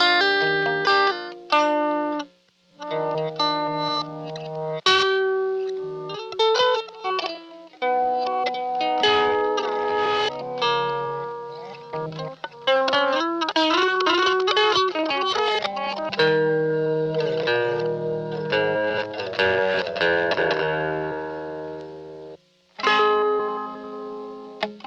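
Electric guitar heard dry, then through a Tensor tape reverse pedal: picked notes and chords turn into swelling, backward-sounding washes with reverb and echo, steady and close, no talking.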